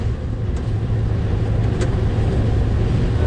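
A tractor engine pulls hard in too fast a gear while unloading corn on the go, a loud steady low rumble that drones on without a break.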